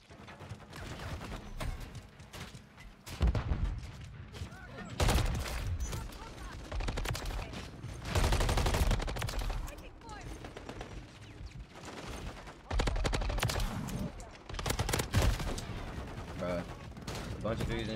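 Shotgun fire in the video game Modern Warfare 3 rings out in repeated bursts of loud blasts across a busy multiplayer match, with mechanical reloading clicks between volleys.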